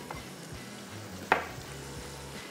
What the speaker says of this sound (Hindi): इसको जो हम भुनाई कर रहे हैं इसमें सारा का सारा जायका गरम मसालों का